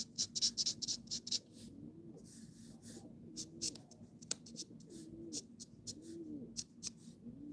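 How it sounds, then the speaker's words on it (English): Soft pigeon coos repeat at intervals, low and gentle, alongside faint scratching sounds nearby. "I love the way pigeons sound."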